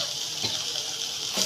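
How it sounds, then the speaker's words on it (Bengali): Chopped tomato going into sizzling spice masala in a pan, a continuous close hiss with a couple of soft stirring bumps, short and uninterrupted by talk. "এরপর এখানে দিয়ে দিব টমেটো কুচি,"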